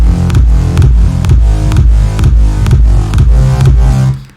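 A rolling mid-range synth bass with sawtooth thickening, filter and EQ locks to a steady four-on-the-floor kick drum in an electronic production, playing loud and alone in a driving repeated groove before cutting off at the end.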